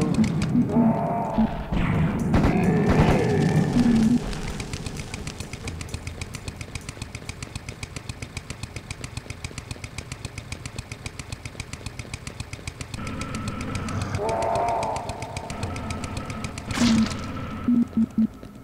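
The chainsaw weapon in Serious Sam HD snarls and revs, a buzzing engine drone running throughout with rougher bursts of grinding impacts near the start and again toward the end.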